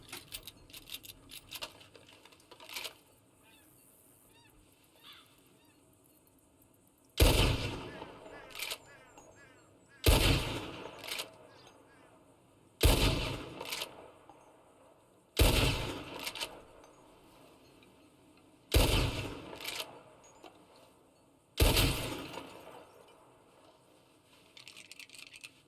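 Rifle shots in Red Dead Redemption 2 roleplay: six loud, booming reports spaced a few seconds apart, each trailing off. Voices talk quietly before and between the shots.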